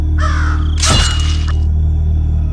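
A crow caws loudly once in a harsh, hoarse burst, used as an eerie sound effect in a Hindi horror story, over a steady low drone with no talking.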